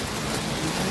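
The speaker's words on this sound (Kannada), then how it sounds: "ಮಳೆ" Steady rain falling on a rainy day, a dense continuous hiss that fills the whole moment at an even, fairly loud level with no voices over it.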